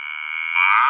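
A cow moo sound effect, a single sustained tonal call that grows fuller and louder partway through, alone and clean with no background.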